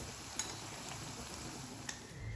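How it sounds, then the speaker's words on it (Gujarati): Jowar, spinach and onion puris deep fry in oil with a soft, steady hiss, quiet and close, broken twice by light clicks of a spoon. "તો હું બધી પૂરીઓ આ રીતે તળી લઈશ."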